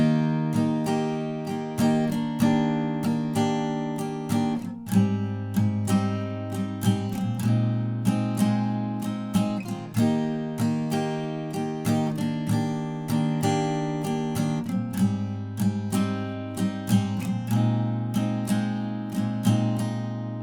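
Acoustic guitar strums the intro chords of a song, a steady rhythmic down-up pattern with ringing chords, played alone and clearly up close.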